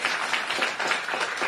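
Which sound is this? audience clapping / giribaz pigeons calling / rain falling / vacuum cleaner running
audience clapping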